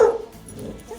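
A dog barks once outside an animal shelter during a community spay and neuter clinic, a single short nearby bark at the start that fades into quiet background noise.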